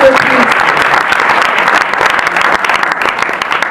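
Warm, full applause from an audience at a lycée reading event, many hands clapping densely and evenly, with a brief voice at the very start.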